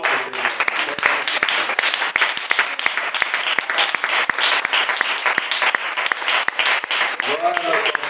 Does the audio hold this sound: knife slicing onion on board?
no